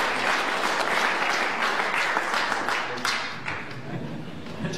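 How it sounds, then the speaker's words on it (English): A snooker audience applauds the winner of a 2012 UK PTC final in Gloucester, a sustained, even wash of many hands clapping that holds steady and slowly eases. "he thoroughly deserves the round of applause he's enjoying"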